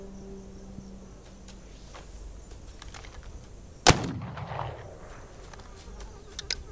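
A single sharp gunshot cracks out midway in the video game This Land is My Land and leaves a short decaying tail over a faint, buzzing, insect-like ambience.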